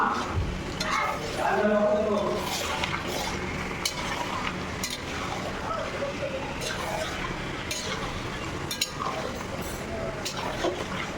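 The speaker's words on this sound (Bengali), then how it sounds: "মাংসটা কষিয়ে নেব।" Mutton sautéed and stirred in a pan for a Bengali kosha, with wet sloshing, scraping and the odd clink of a utensil running steadily while a voice talks over it.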